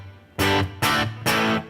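Electric guitar played through a digital modeling effects unit with distortion, three loud, heavily driven chords or strums in quick succession, each ringing briefly before the next, with no voices.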